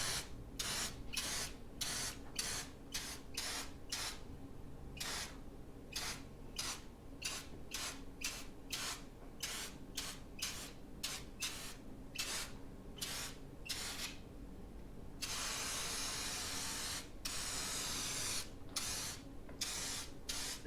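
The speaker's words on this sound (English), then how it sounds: "That is a lot of paint." A paint spray gun gives a continuous hissing spray throughout, broken by rapid rhythmic clicking bursts, with a steadier loud hiss near the end; close and loud.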